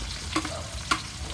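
Chopped onion sautéing in a hot pan, a steady soft sizzle broken by two brief scraping stirs of a utensil against the pan.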